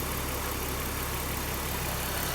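A 2.5 litre naturally aspirated inline-six petrol engine with a K&N reusable air filter and a water-pump-driven clutch fan idles steadily up close, a dense even rumble and whir running without a break.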